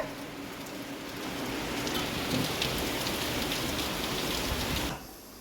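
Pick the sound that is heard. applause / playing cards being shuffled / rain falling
rain falling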